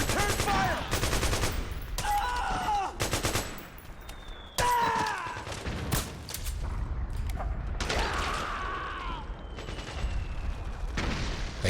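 Video game gunfire in Metal Gear Solid 4: Guns of the Patriots, with rapid automatic bursts and repeated shots rattling through a busy battle mix of mechanical clanks and whining effects, loud and almost continuous.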